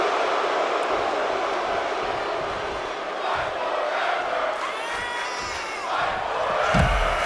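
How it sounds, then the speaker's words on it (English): A wrestling crowd at a live event roars and cheers in a steady, loud wash of massed voices, swelling near the end with a few chants rising through the noise. "You can hear the crowd starting to get behind Vex, and the other side of the crowd just really going after Beck."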